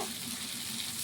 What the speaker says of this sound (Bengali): এখানে আন্দাজ মতো জলটা দিয়ে নেব